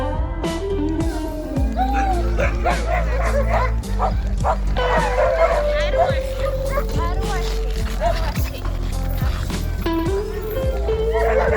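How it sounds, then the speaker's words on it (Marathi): Siberian huskies at a snowy farm near Murmansk, Russia, bark, yip and whimper continuously in a noisy chorus, close and loud, with people talking among the dogs. "Siberian husky"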